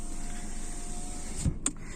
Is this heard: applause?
no